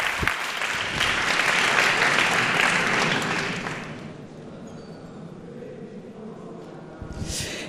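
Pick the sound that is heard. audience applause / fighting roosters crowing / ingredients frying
audience applause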